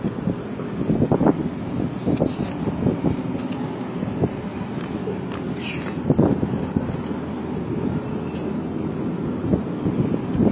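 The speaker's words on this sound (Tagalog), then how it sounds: "Sarap ng hangin dito sa dagat." Steady wind gusting across the open air by the sea, a continuous broadband rush with a few louder bumps and faint distant voices underneath.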